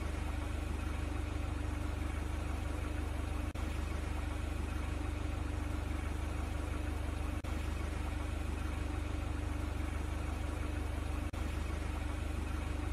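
A forklift engine in a virtual reality training simulator hums in a steady, quiet idle drone, with a few faint ticks breaking the constant tone.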